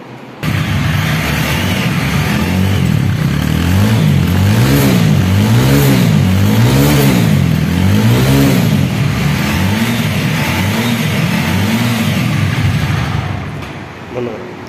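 A 4V double-disc motorcycle engine is revved while in gear: loud, close rising and falling revs in a regular wavelike rhythm, held for about fourteen seconds before cutting off.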